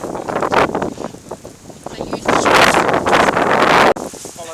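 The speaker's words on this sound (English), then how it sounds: "If the wind would just die down a bit, it'd be really good." Strong wind buffets the microphone on a snowy mountainside during a snowshoe outing at Porcupine Rocks in Perisher, a loud rushing roar that swells and gusts continuously before cutting out abruptly near the end.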